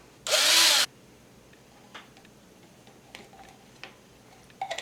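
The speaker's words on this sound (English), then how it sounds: "I'm gonna drill 2 more holes on this cap." A short, loud burst of a power drill boring into a plastic cap, then quiet with a few faint clicks and taps of handling.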